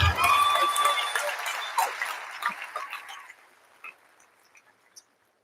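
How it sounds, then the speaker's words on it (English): Applause from a graduation crowd fills the opening seconds loudly, then thins into scattered claps and fades to near silence. "let's give them a round of applause."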